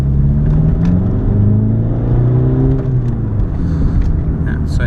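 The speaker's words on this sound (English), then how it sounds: "I'm gonna try it in second gear, full throttle," A VW Jetta TDI diesel with a new South Bend clutch pulls hard at full throttle in second gear, its loud engine drone rising steadily in pitch from inside the cabin.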